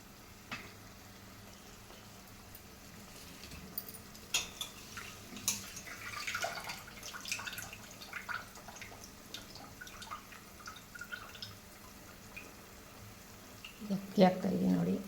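Uncooked rice tipped into water already at a rolling boil in a pressure cooker for a simple pulao, giving soft bubbling and patters, with a louder splashy rush near the end and a voice talking over parts of it.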